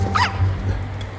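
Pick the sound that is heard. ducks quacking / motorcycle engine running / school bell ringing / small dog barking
small dog barking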